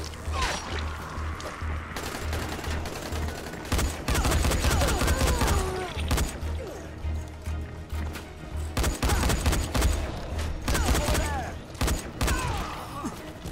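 Enemy gunfire in the zombie video game Dying Light comes in rapid bursts and scattered single shots, with crashes and thuds under a player talking, loud throughout.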